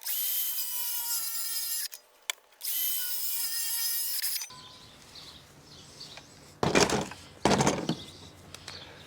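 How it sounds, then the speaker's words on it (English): A Makita saw cutting a small wooden filler plate for a TV-mount backer in a vintage truck camper: two sustained whining cuts with a short gap between, then rustling handling and two brief loud bursts, close by. "I'm cutting myself a little filler plate here for a backer for my TV mount"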